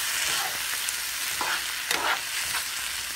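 Tomato rice masala mixture bubbles and sizzles in a pan, a steady close hiss with soft pops and occasional stirring scrapes, no talk.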